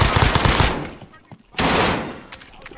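MAC-10 submachine gun bursts in Warzone Pacific, a loud rapid rattle of fire, a short pause, then another close burst.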